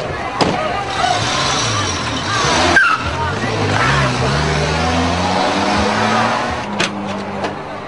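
A car engine revs and pulls away during a carjacking in Colombia, loud and close, with the motor climbing through gears amid street noise and a brief sharp sound.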